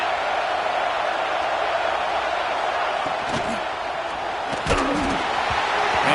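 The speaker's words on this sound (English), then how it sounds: "This crowd bringing the energy and noise early." Stadium crowd noise in College Football 26, a constant loud roar of a large crowd with a few thuds, with commentary voices over it.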